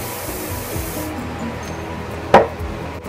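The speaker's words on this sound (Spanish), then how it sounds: "Ahora van a tomar su spray" Hairspray is misted over freshly styled soft waves of hair, giving a continuous airy hiss for about a second up close, then quiet handling and a small tap.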